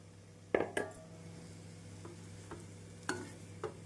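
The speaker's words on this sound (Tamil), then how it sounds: "நம் சாதத்தை சேர்த்து மெதுவாக கிளற வேண்டும்" Cooked rice being slowly stirred into a carrot mixture in a pan: a few sharp spoon scrapes and knocks against the metal, spaced apart over a quiet, faint background.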